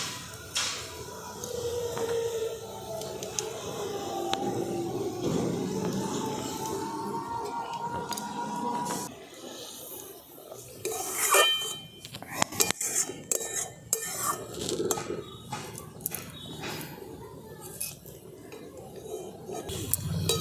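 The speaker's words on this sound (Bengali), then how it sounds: "এরপর আমি এই যে ভেজে রেখেছিলাম কোপ্তাগুলো সে কোপ্তাগুলোকে আমি দিয়ে দিচ্ছি" Fried eggplant koftas dropped into boiling curry gravy with spoon-and-pot clinks and stirring, a quieter simmering stretch first, then a busier run of metal clatter and small knocks, close by.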